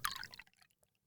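Howdy Hooch liquor pouring into a shot glass, a brief splashy trickle that lasts under half a second and then fades into a few faint drips, close and quiet.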